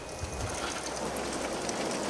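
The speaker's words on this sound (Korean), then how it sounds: "마른 하늘에 남자의 집에만 비가 내리고 있는 기이한 현상" Steady rain-like patter of sprinkler water falling on the roof of a hand-built mountain hut, a dense continuous hiss and drumming close by, with no voices.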